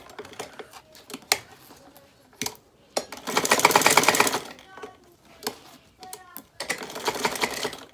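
A sewing machine stitches a legging seam in several rapid mechanical bursts of clattering needle action, separated by short pauses and light handling clicks.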